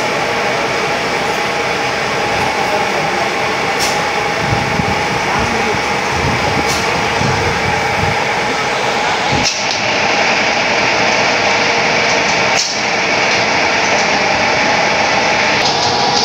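On a septic suction truck, a vacuum pump driven through the PTO runs with a loud, continuous mechanical roar and hum. A couple of brief clanks break the steady drone partway through.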